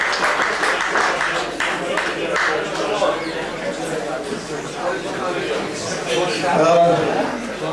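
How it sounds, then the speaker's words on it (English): At a 'This is your life' tribute evening, an audience applauds a man who gave his life to children's soccer. The clapping is steady and crowd-wide, mixed with chatter and voices throughout. "A round of applause for the man who's given his life to children and soccer"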